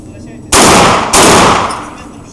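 A Remington Versa Max Tactical shotgun fires two booming shots roughly 0.6 seconds apart at close range, the second blast ringing out and slowly decaying into the surroundings.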